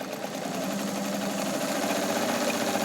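A restored vintage Kenmore 158.1750 sewing machine runs steadily up close, its motor hum and rapid needle chatter continuous and even throughout, with no talking.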